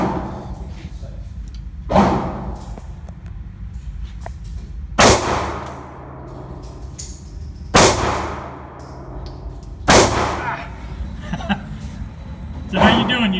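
A Glock G43X pistol fires about six spaced shots, each with a sharp crack and a ringing clang off steel targets at a shooting range.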